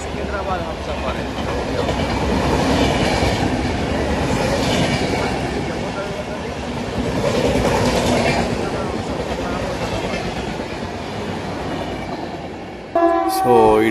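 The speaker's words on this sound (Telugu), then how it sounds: "Coimbatore Hazrat Nizamuddin Konguru super fast express." Kongu Superfast Express, running Coimbatore to Hazrat Nizamuddin, passes close by with a loud, sustained rumble and steady clatter of coaches that holds for the full run, then a sharp tonal burst near the end.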